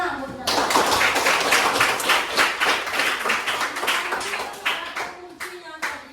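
A group claps together in a lively round of hand clapping, with dense, distinct claps going steadily for several seconds before thinning toward the end, and voices faintly audible underneath.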